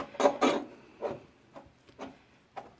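Hands smoothing the surface of a clay doll, giving soft, close rubbing strokes in several short bursts with pauses between, quiet and alone.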